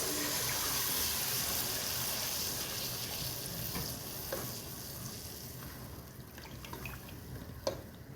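Egg and semolina halwa stirred in a pan with sugar and milk, giving a steady soft sizzle and scraping churn that eases slightly over time, with a sharp clink near the end.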